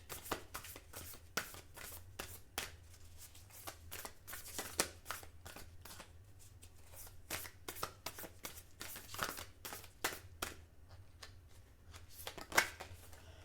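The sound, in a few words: shuffling and drawing cards from a card deck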